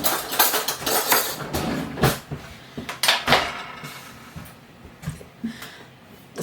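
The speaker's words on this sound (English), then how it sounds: "I need to stick a spoon into my oven." A metal spoon knocks and clatters against a rickety home oven, several sharp irregular clanks and rattles up close with no talk.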